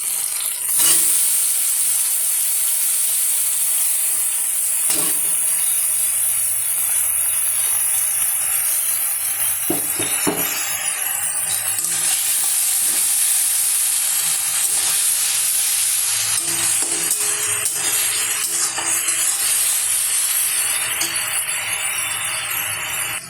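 Onions sizzle and hiss steadily as they fry in hot oil in a pan, a loud continuous crackle with occasional sharper pops and stirring sounds, no voices.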